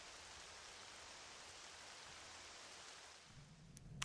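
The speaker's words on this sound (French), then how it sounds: "Ça va arrêter la pluie." Steady rain falling in the video game Zelda Twilight Princess, a soft even hiss of drops that holds for several seconds before a low rumble and a short sharp sound at the end.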